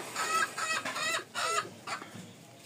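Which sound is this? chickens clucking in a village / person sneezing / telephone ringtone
chickens clucking in a village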